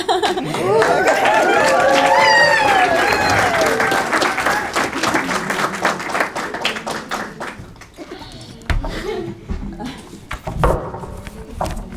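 Applause and cheers greet a high school athlete at her letter of intent signing, loud clapping with whoops at first, then thinning into scattered claps, chatter and light laughter as it fades.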